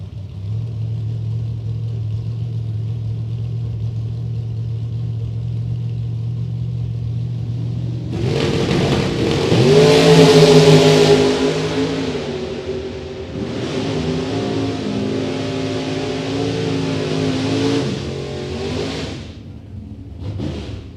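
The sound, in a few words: drag race of a Camaro and a Chevrolet S10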